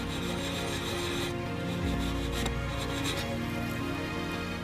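Sandpaper rubs over the painted plastic body of a Tamiya 1/24 Fairlady 300ZX Turbo model car during intermediate sanding, a close, steady scraping with back-and-forth strokes.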